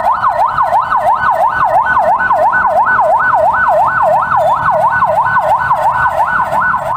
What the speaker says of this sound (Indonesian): Kendaraan mobil ambulans seakan tiada henti tiap hari membawa para pasien COVID-19 ke Rumah Sakit Umum Daerah